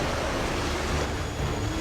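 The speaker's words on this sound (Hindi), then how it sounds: "समुद्री लहरें लगभग 40 फीट ऊंची उठकर बहुत तेज वेग में मंदिर की ओर चल पड़ती हैं।" Ocean waves surge in a Hindi devotional story about towering sea waves rushing toward a temple, a steady, dense roar of surf with no pause throughout.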